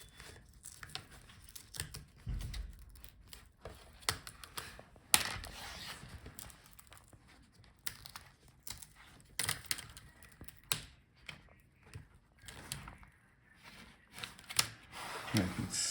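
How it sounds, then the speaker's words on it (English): Plastic front bezel of an HP Omnibook 3 15 laptop being pried loose from its adhesive and clips, with irregular sharp clicks, snaps and crackling bursts close by, scattered through the clip with quieter pauses between. "you have to wiggle that plastic part a little bit to disconnect all the clips"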